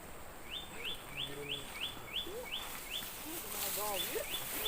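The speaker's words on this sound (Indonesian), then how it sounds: "banyak manuk, burung-burung berkicau" Forest birds chirp close by in a regular series of sharp rising whistles, with other lower calls scattered around them, under faint background noise.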